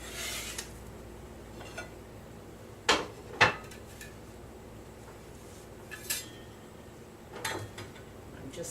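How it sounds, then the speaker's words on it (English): A knife cuts through a quesadilla and a utensil scoops it onto a plate, giving a few sharp clinks and scrapes against the dish, with quieter rubbing sounds in between. "So I'm going to cut that in half. And let me scoop it over here on the plate."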